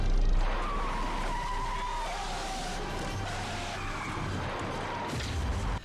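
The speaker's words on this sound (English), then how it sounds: "they slipped on some black ice and veered off the road and crashed the truck" Truck skidding out of control on black ice, with a loud, sustained wavering tire squeal and engine rumble lasting several seconds, ending with a low thump from the crash.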